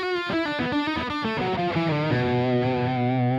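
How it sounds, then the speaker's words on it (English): Overdriven electric guitar lead played through a Superjack amp's overdrive channel on voice one with gain at noon, a quick run of distorted notes settling into a sustained held note, loud and alone. "Let's start on the overdrive channel on voice number one with the gain set at 12 o'clock."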